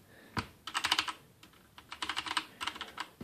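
Keycaps are pressed onto a Rosewill RGB80 tenkeyless mechanical gaming keyboard with brown switches, giving quick clusters of sharp plastic clicks in two or three short bursts, close and fairly quiet.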